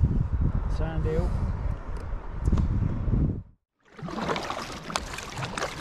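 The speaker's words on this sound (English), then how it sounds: "that's me paddling back in now" A kayak is paddled back to shore against wind and tide, with water splashing and rushing around the hull under wind noise and a voice, then a brief cutout before the splashing resumes.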